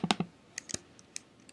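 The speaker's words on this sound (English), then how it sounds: "as we were typing all these things on the front panel" Quick bursts of keyboard typing while entering labels on a LabVIEW front panel, a cluster of three clicks followed by scattered single keystrokes, close and crisp with no talking.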